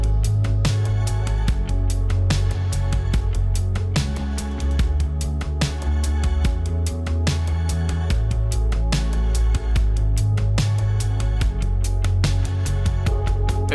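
Bass guitar and drum kit backing track from an indie-pop love song, a steady groove of punchy kick and snare hits with a sustained bass line, loud and continuous with no voices.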